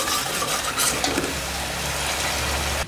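Spice masala frying in a pan for mutton gravy, a steady hissing sizzle that runs evenly throughout with faint stirring scrapes and no talking.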